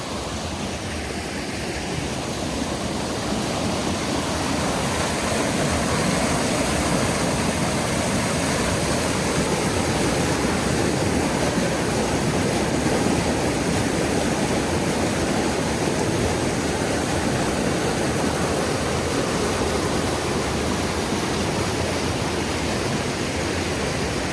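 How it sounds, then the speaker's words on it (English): Loud, continuous rushing water roars steadily throughout at a gold mining site in Southern Oregon, a broad unbroken wash of sound like a fast river or rapids nearby. "Got a lot of water moving right now."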